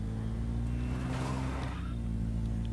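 Car engine in the zombie video game State of Decay, a loud continuous rumbling drone with a rising whine in the middle, steady throughout with no talking.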